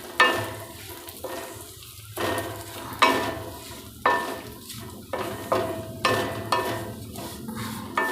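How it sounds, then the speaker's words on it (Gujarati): Poha being dry-roasted in a pan over low heat, with repeated scraping and stirring strokes about once a second and a soft, steady sizzle underneath, close and clear with no talking. "પૌવાને પણ એવી રીતે ધીમે તાપે આપણે શેકી લઈશું"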